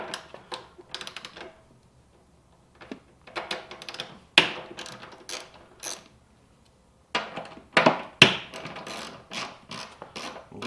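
A 6mm Allen key works on bolts of an Indian Springfield Dark Horse motorcycle backrest, producing close metallic clicks, ticks and rattles in irregular bursts separated by short pauses.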